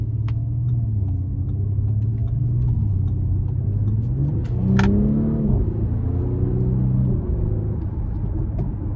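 A 2023 Audi SQ5 engine and exhaust during an acceleration pull, a loud, close low growl that climbs steadily in pitch through the gears, with a brief shift break midway.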